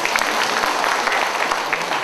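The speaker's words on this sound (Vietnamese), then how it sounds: "một tràng vỗ tay ạ một tràng vỗ tay" An audience in a Vietnamese business gathering gives a short burst of steady, dense applause, fairly loud and continuous, with a little crowd murmur underneath.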